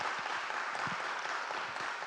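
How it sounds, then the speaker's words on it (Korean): A church congregation clapping for a man called to the front, a soft, distant, steady patter of many hands with no voices over it. "큰 박수 부탁드립니다."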